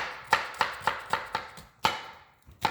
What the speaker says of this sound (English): you cut the head and the butt off of it, slice it in half